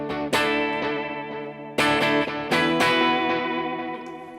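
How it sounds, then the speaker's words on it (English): Electric guitar run through a NUX Trident pedal with delay feeding into reverb: four loud strummed chords, each leaving long, washy repeating tails that blur into a dense ambient wash, with no talking. "where the delay is going into the reverb, each one of the reflections of the delay is now going through the reverb as well"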